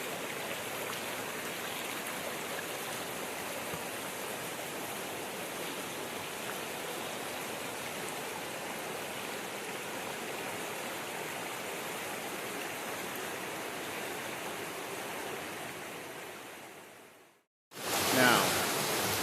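Creek water flowing beside a campsite on the Cataloochee south loop in March: a steady, close rushing wash that holds evenly, drops out briefly near the end, then returns louder.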